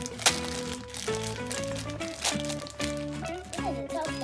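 A tough plastic bag crinkles and crackles as it is pulled at and opened by hand, with steady close rustling bursts and a voice and an adult's voice talking over it.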